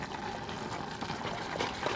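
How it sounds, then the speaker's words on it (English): Soft wet swirling and scraping as cornstarch and water are stirred into a slurry in a small container, a faint, close, continuous mixing sound with no talking. "And mix that up."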